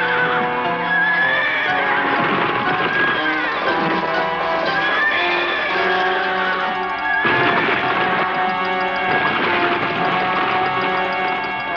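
Cartoon horse neighing and whinnying loudly in a Black Beauty animation, with shrill wavering calls repeated over a busy music-like background and a brief break near the middle.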